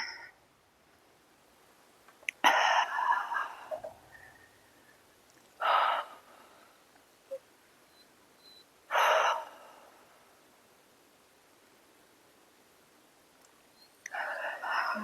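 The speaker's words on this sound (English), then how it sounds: "Breathing deeply." During yoga, slow, deep breaths come through as a few separate airy inhales and exhales spaced several seconds apart. They are close and soft, with near silence between them.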